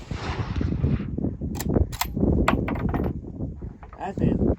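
A single loud, close crack of an American-made Enfield rifle being fired outdoors, followed by a sharp echoing tail, with people talking and metallic clinks around it.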